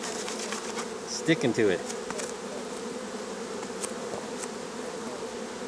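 Honeybees swarm and buzz steadily around an open beehive, a dense close drone that runs throughout, with someone briefly talking over it.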